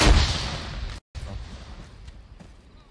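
A frag grenade blasts in the ARMA 3 military game, a loud close burst with a rumbling tail, cut by a brief dropout and followed by a fading low rumble.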